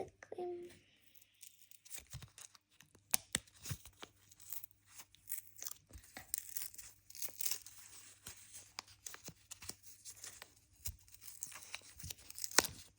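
Close, quiet crinkling and tearing of thin plastic packets from a surprise doll unboxing, irregular rustles and rips coming in short bursts.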